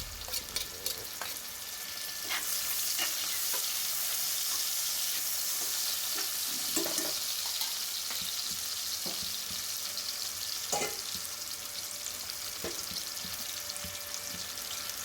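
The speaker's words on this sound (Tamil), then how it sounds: "நீட்டாக கட் பண்ண வெங்காயத்தையும் அதில் சேர்த்து வதக்கி விட்டுக்கலாம்" Sliced onions frying with whole spices for chana biryani, a loud, continuous hiss of sizzling oil with occasional stirring scrapes, close up and without talk.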